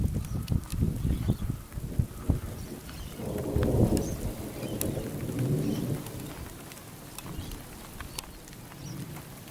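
A severe thunderstorm rolls across an exposed high point, with heavy rain pattering and spattering close by and deep thunder rumbling in long swells through the middle, with gusty wind noise throughout.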